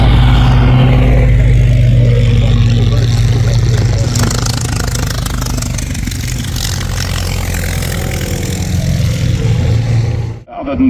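Oakland Romano Edwardian racing car at the Goodwood Members Meeting, a loud low engine roar that rises and falls as it runs, with a commentator talking over it.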